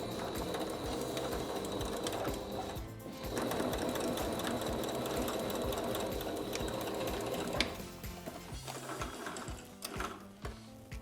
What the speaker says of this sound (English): secure my elastic in place by sewing vertically through the side seam